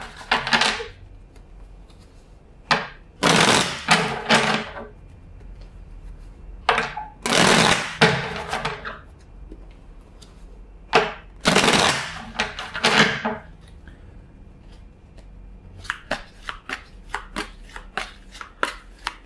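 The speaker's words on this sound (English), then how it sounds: "let's shuffle the deck four times" Cards being shuffled in quick bursts, each a crisp riffle followed by brief pauses, ending with a rapid run of light taps.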